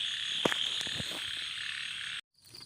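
A frog caught in a frog trap croaks steadily, up close and fairly loud with a few sharper calls near the start, before the sound cuts off abruptly.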